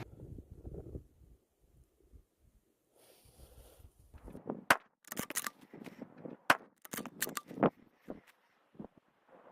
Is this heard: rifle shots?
yes